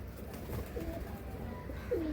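Madrasi Old Kalanka pigeons from a Kolkata loft coo in low, throaty, rolling calls over steady background hum, with no talk.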